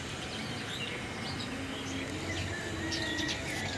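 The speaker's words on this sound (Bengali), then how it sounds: "ঘুঘু আসছে, বুলবুলি আসছে, চড়ুই আসছে" Doves, bulbuls and sparrows call outdoors, with soft cooing and scattered chirps and tweets spread over a steady background hum, fairly faint and continuous.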